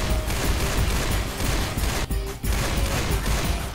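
Sustained rapid gunfire in a video game, loud and close, with overlapping shots forming a steady barrage that drops out briefly midway before resuming.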